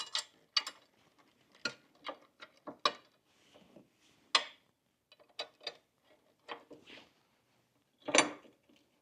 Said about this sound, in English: go ahead and put the screw in